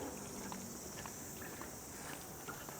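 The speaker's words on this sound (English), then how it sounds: "Oh yeah, I can hear a few cicadas now" Cicadas in the Kauri Glen Reserve give a constant high, faint shrilling drone, with light rustles and taps from footsteps on a walkway and no talking.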